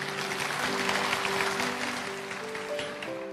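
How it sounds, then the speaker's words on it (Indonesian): Church congregation applauding during a service, a broad wash of clapping from many hands that swells and holds at moderate loudness over sustained organ or keyboard tones. "Berikan tepuk tangan untuk Tuhan Yesus"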